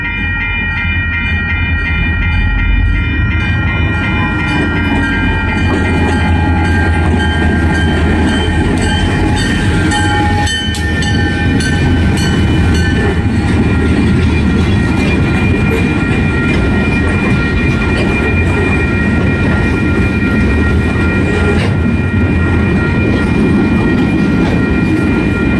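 The LA3 freight train rolls past Ballardvale station in Massachusetts heading toward Lowell Junction, a loud, close, sustained rumble of wheels and cars with a steady drone and occasional clatter.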